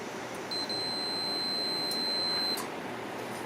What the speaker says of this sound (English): So you want to put your multimeter on continuity checking, make sure it's working